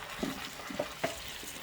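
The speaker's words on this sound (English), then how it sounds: "And stir it slow." A spoon stirs onions cooking in a pot, soft scraping strokes over a faint sizzle, quiet and close, with no talking.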